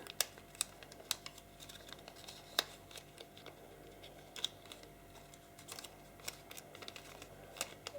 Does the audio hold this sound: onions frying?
no